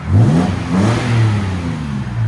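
Toyota Tacoma 2010 pickup with a 4.0L V6 and Borla ProXS exhaust revs loudly and up close, a deep rumbling exhaust note rising and falling in three or four throttle surges with no talking.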